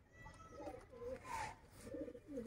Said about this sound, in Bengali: এই যে লক্ষা পায়রাটা দেখতে পেয়েছেন